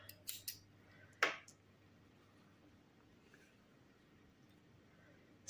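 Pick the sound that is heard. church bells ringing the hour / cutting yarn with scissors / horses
cutting yarn with scissors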